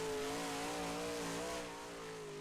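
A race car engine in a dirt track racing PC game drones steadily at a near-constant pitch, wavering slightly, then dropping a little in level toward the end, with no voices.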